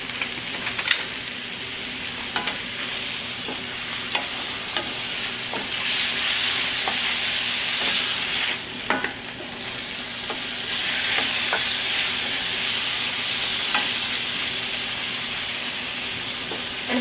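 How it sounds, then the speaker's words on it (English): Scallops sizzling in a sauté pan, a steady frying hiss with repeated clicks and taps as they are tossed, the sizzle swelling louder in stretches, close and continuous without talking. "And we're going to toss our scallops around a bit."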